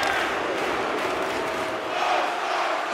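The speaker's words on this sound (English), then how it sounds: "the crowd is frustrated and they're booing every time he touches the puck" Arena crowd in NHL 24 at a Dallas Stars vs Los Angeles Kings game, booing a hometown player: a steady, dense crowd roar that holds loud and even throughout.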